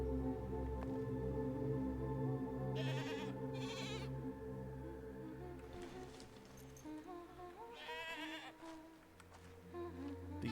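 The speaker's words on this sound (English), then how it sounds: "These goats sound so unrealistic." Goats in the video game Mundaun letting out a few separate bleats over a low ambient hum, quiet and fairly distant, with short pauses between calls.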